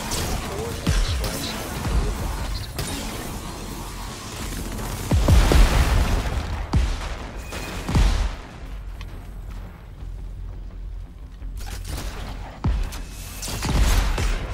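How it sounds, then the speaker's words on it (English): Rocket launcher blasts and other heavy explosions in the co-op video game Crackdown 3, several booming impacts and crashes scattered across a busy, loud battle soundscape. "Ah, somebody's got a rocket launcher."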